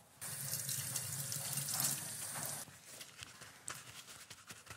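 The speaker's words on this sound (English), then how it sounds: "I'm going to give this a light rinse with some water and pat it dry" Tap water runs steadily over a salmon fillet being rinsed in a sink, a close, continuous splashing stream that cuts off partway, leaving softer drips and handling noises.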